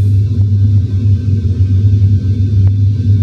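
Boeing 737-800 engines spooling at takeoff power in a flight simulator, a steady, loud low rumble with a constant drone that holds evenly throughout, with no talk over it.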